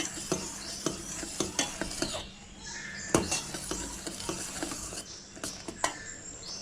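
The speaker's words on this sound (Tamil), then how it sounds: "அப்படியே 1 நிமிஷம் கைவிடாமல் கிளறிட்டே இருப்போம்." A spoon scrapes and knocks against a pot in a steady rhythm as thick boiling jaggery syrup bubbles and hisses softly underneath, for adhirasam sweets.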